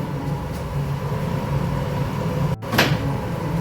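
A lid knocks onto a cooking pot of simmering aloo matar gajar curry, one clear clatter near the end over a steady kitchen background hum.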